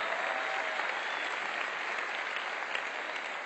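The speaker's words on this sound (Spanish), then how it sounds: "Un aplauso para Gaby, por favor." A comedy show crowd in Mexico City applauds a volunteer from the audience, a loud, dense and even wash of clapping that fills the whole stretch without any talk on top.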